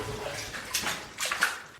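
Splashing and sloshing through water in the flooded Paris catacombs, with a few close, uneven splashes from steps in boots over a short stretch.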